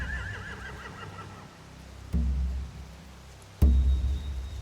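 Horses in The Walking Dead video game give a couple of wavering neighs, followed by two sudden heavy thuds against a low ambient background.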